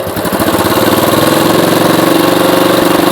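A Royal Enfield Classic 500 EFI motorcycle engine revs loud and close, its steady rapid thump rising in a sustained throttle with no voices over it.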